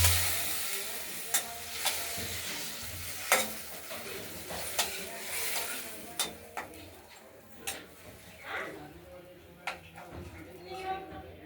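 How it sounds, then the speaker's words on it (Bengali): Potatoes sauté with spices and tomato in a pan for fish curry, a soft steady sizzle broken by scattered clinks and scrapes of stirring, fairly quiet. "মশলা এবং টমেটো দিয়ে আলুগুলোকে ভালো করে মশলাটাকে কষিয়ে নেব"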